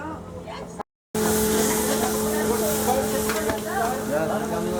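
Lamb hamburgers frying on a Kashgar street: a dense, steady sizzle fills the scene after a brief cut to silence, with a faint tonal hum and a voice speaking intermittently over it.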